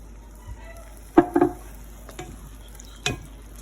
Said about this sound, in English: Give that a stir. And then come in with our tomatoes.